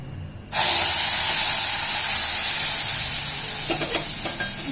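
A sudden loud sizzle as hot milk and water hit a hot new kadhai while making sheera, then a steady steaming hiss that keeps going, with a few faint clinks near the end.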